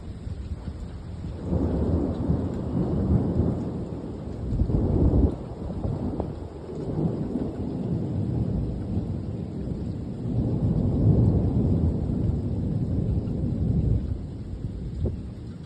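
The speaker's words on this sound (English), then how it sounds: "we had a little bit of a thunderstorm over here" A thunderstorm with rain falling steadily while several long, deep rolls of thunder rumble and swell, moderately distant, with no voices.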